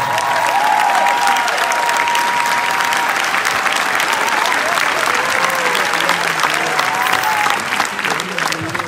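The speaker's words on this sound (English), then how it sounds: "Give him a round of applause." Large concert crowd at a show in Argentina applauds the roving cameraman, sustained loud clapping with a few cheers and voices mixed in, steady throughout and easing slightly near the end.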